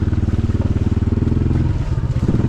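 A Yamaha NMAX motor scooter runs steadily up close, its engine giving a fast regular low pulsing throb with wind rumble and no talk.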